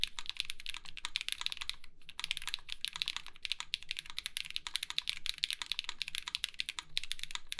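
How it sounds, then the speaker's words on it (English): Swift65 mechanical keyboard typed on continuously, producing fast, crisp, close-up clacks in an even rapid rhythm with short pauses, no voices. "But I'll give you guys a bit of a sound demo right now,"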